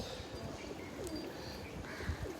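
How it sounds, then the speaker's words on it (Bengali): Pigeons coo softly on a rooftop terrace on a morning after rain, several low repeated coos overlapping, close and quiet over faint background hiss. "আবার এই পাখিগুলো সবাইকে গুড মর্নিং জানাচ্ছে।"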